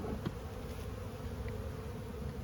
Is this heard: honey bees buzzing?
yes